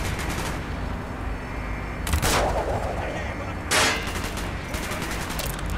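Bursts of gunfire in the Call of Duty Black Ops mission Executive Order, with loud broadband blasts around the two- and four-second marks over a steady crackle of battle noise.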